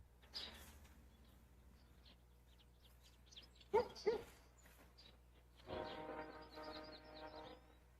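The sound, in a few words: train going by in the distance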